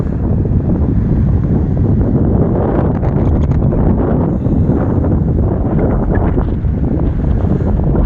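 A northeast wind blows on a beach near the surf, a loud, steady rumbling roar buffeting the microphone for the whole stretch, with no talking.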